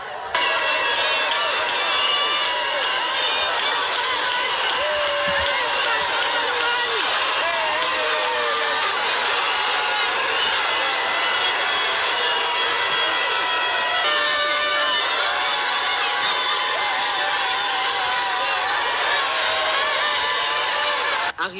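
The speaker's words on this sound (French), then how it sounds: "une foule innombrable a envahi le long de la chaussée Chikapa-Kanjadi pour voir le chef de l'État" A huge crowd packs the roadside along the Chikapa-Kanjadi road near Chikapa market to greet the head of state, a dense, steady roar of many voices and cheering that holds unbroken at a loud, even level throughout.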